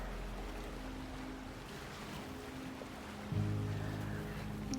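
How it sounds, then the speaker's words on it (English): Gentle ocean waves rolling onto a shore, a soft continuous wash of surf with a low rumbling bed, steady and unhurried, swelling slightly near the end, distant and quiet. "the waves roll in, not loud, not crashing, but turning, curling, unfolding onto the shore with a gentle rhythm"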